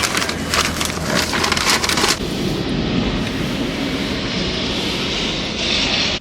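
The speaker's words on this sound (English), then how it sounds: "this is the first time I actually am seeing planes land" A jet airliner roars overhead as it comes in to land at LAX, a loud broad rumble that rises and fills the space, heard up close from the ground with no talk.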